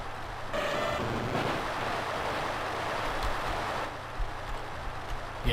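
Rushing water inside a waterfall cave in Pokemon HeartGold, a steady broadband roar that holds at even loudness throughout, with a slight shift partway and a soft thump near the end, no talking.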